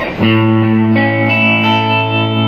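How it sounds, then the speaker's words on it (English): Electric guitar played through a Line 6 modeler with tremolo, a sustained chord ringing out loud and close with a pulsing, wavering volume and effect-laden tone. "And we have a tremolo"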